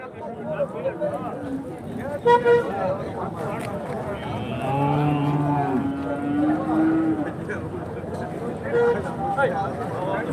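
Cattle at the Santhipuram Sunday market in Andhra Pradesh let out a long, low moo with a few shorter calls, close by amid crowd murmur. People talk over it throughout.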